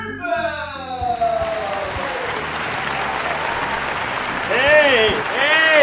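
A crowd at a live stage show breaks into sustained applause, steady and dense throughout, while a voice rises over it near the start and whoops or shouts cut through toward the end.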